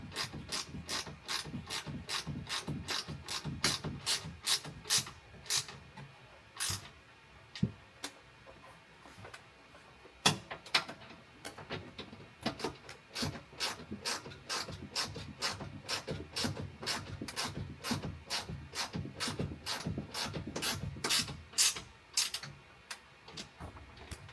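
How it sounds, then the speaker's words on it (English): Gear wrench ratcheting steadily on the front bolts of a headliner shelf in a 2019+ VS30 Sprinter van, a long, fast, close run of crisp clicks with brief pauses, no voices. "We're just going to come back to our front bolts. That's where that gear wrench really helps"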